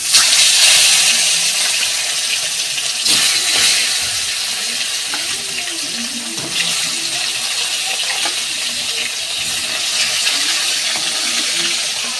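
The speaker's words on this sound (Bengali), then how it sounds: "এবার মাছগুলো ভেজে নেব" Pieces of snakehead fish frying in hot oil give off a loud, steady, close hiss that stays broad and constant throughout, with a few brief surges.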